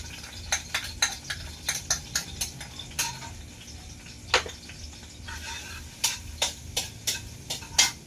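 Garlic sizzling in hot cooking oil in a rustic hut kitchen, with a steady low fry under repeated sharp clinks and scrapes of a utensil stirring against the pan, all fairly close and with no talking.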